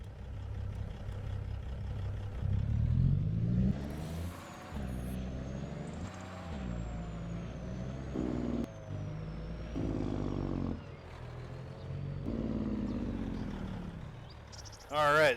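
A Komatsu 400 haul truck drives in Farming Simulator 25, its deep engine rumbling and shifting pitch while moving, with a thin whine above and a brief louder burst at the end.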